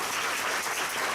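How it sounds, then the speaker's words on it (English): A hall audience breaks into sustained, dense applause honoring a longtime science education program facilitator in India, steady and full throughout without any voices on top. "So please give a round of applause to Mr. Tushar Sengupta"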